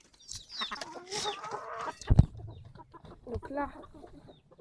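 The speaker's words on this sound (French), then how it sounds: "on a une poule Pékin noire qui a 2 ans, elle, qui court" A two-year-old black Pekin bantam hen clucks while running, with short close clucks and squawks mixed among other chicken sounds as a person speaks briefly.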